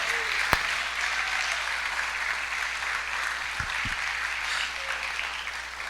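Church congregation applauding during a Spanish-language sermon, a sustained steady wash of clapping with a sharp knock near the start and a couple of low thumps later on.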